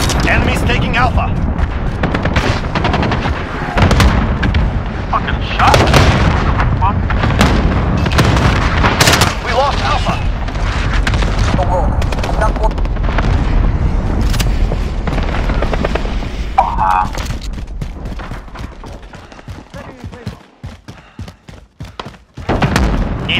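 Cluster strike explosions in Call of Duty: Modern Warfare land in a heavy barrage of booms and thuds mixed with gunfire, loud and continuous before thinning out near the end, with voices talking over the chaos.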